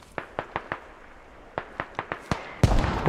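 A firefight in the military shooter game Squad: a run of sharp, close cracks in quick bursts, ending with a louder, heavier blast from a grenade.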